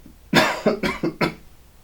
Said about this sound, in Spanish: Hasta tos me dio nada más de acordarme. Y me sigue dando tos.